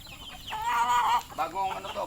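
Newly arrived chickens cluck close by, with a long drawn-out call followed by a few shorter clucks, moderately quiet.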